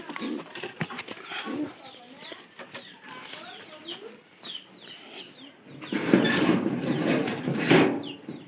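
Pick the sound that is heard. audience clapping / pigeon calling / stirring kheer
pigeon calling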